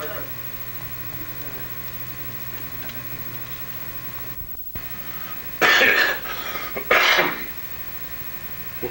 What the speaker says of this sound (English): We'll keep that cough.